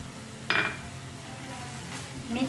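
Green chillies being stirred into jackfruit frying in a pan, with a single clear clink of a spoon against the pan near the start, faint scraping afterwards, and a low sizzle underneath throughout.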